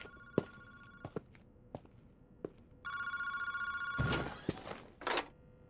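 A telephone rings in a park phone booth in the horror video game Paranormasight, with two clear electronic bell bursts separated by a pause, followed by a couple of louder clunks near the end. Faint footsteps tap in the quiet background.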